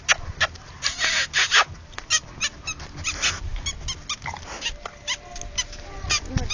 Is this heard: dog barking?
yes